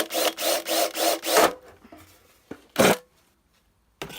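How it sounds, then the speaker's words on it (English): A vintage advertising tin clock is drilled from the outside, four rhythmic grinding bursts followed by a pause, a single short scrape and another burst, close and loud with no talking. "we're just going to drill from the outside"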